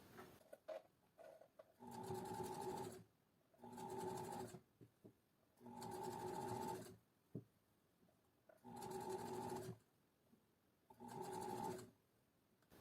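Five evenly spaced bursts of a sewing machine running a side seam on a blouse, each lasting about a second with quiet pauses between, plus a few faint clicks early on.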